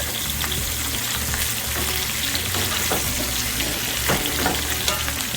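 Ribeye steak seasoned with bonnet pepper frying in a hot pan, a loud, dense, continuous sizzle with crackling spits throughout.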